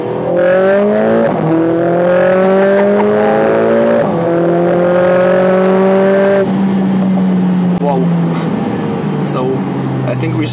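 A Mercedes A45 S AMG turbocharged four-cylinder accelerating hard down a straight, its loud engine tone climbing steadily through several gears with brief dips at each shift.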